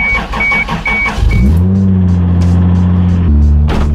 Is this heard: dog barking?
no